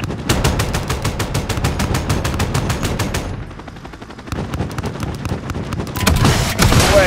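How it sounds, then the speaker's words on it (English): An aircraft cannon firing in Call of Duty Modern Warfare. Loud, fast rattling bursts fill the first three seconds, then a quieter rumbling stretch with scattered impacts follows before a heavy burst resumes near the end. "Guns, guns, guns."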